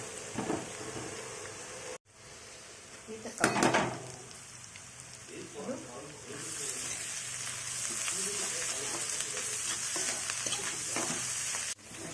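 Bombil fish with onion and tomato frying in a pan and being stirred, a steady sizzle with scraping strokes of a spatula, a sharper clatter near the start, and brief quiet speech in places.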